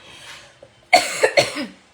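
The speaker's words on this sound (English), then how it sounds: "Trying so hard not to cough, make my eyes water." A few sharp, close coughs in quick succession, three main bursts after a brief quiet start, with a faint softer sound before them.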